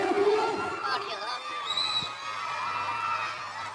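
Stadium crowd at a Big Cricket League 2024 match between Mumbai Marines and MP Tigers, cheering and shouting in a steady distant roar as a batsman's fifty is applauded, with a commentator talking over it.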